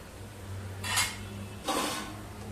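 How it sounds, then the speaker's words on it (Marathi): Two short metallic clanks, about a second apart, as a lid comes off a pan of moong dal paratha cooking on medium heat, close and fairly clear over a quiet background hum. "दोन मिनिटं झालेली आहेत आपण झाकण उघडून बघूया"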